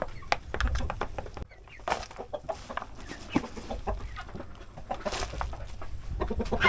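Native chickens cluck in short, scattered bursts close by, mixed with scratching and rustling, while softer bird sounds come from the background.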